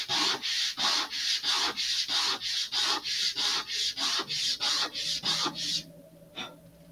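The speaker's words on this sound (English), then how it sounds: "let's sand a little bit more" Sandpaper rubbing laser-cut wooden parts of an Estes DARC model rocket, with about a dozen rhythmic back-and-forth strokes in steady succession, close and loud, then stopping.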